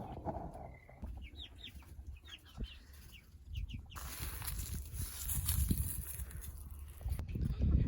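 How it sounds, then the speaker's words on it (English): Chickens on a Florida farm, with roosters and hens clucking and calling in short, rising bursts near the recorder, followed by a louder stretch of rustling, scratching and wing flapping as the birds move about. "We have lots of chickens here, roosters and hens"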